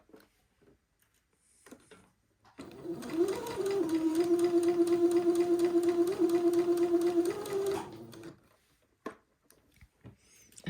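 A sewing machine stitches a seam on a day gown, running in one steady whirring, rapid-pulsed stretch of about five seconds, close and clear, with soft handling noises before and after.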